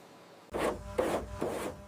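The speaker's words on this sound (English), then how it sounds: "Meticulously refining the edges with the scraper" A scraper drawn over the edges of a fiberglass replica car body makes three quick rasping strokes in an even rhythm, close and fairly faint.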